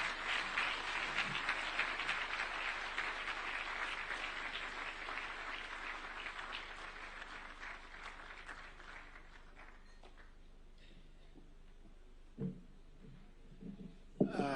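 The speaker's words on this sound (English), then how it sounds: "I think the round of applause you gave him is not sufficient" A large gathering at a National Prayers Day event in Kenya applauds in a thick, even wash of clapping that holds for about ten seconds, then fades out, leaving a few stray sounds.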